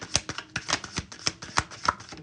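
Oracle cards being shuffled by hand during a live tarot reading, a string of quick, soft papery riffles and slaps in an uneven rhythm, close and fairly quiet with no talking.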